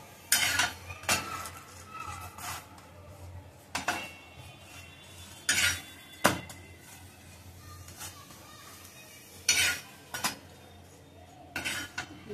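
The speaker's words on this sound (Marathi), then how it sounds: "रोटी भाजल्यानंतर गॅस जरा स्लो ठेवायचा. साईडच्या कड्या आहेत त्या भाजून घ्यायच्या सगळं." The edges of a makki roti, a cornmeal flatbread, are roasted on a pan over low heat, with repeated metallic clinks and scrapes in short bursts against a quiet background and a faint sizzle.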